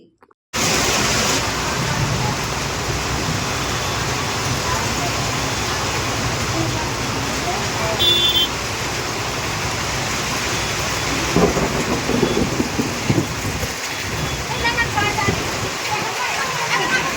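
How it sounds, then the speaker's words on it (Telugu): After a brief silence, a downpour starts up and keeps roaring steadily, with deep rumbles of thunder and gusty wind rolling underneath. "ఈదురుగాలులతో ఉరుములు మెరుపులతో కురుస్తుంది భారీ వర్షం"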